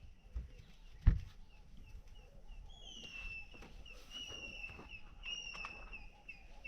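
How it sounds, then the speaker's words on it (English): Faint, high bird calls with thin whistled notes sound at a distance from tall mangroves on the Gambia River over quiet ambience, with a sharp thump early on. "There's a ton of birds, you can hear."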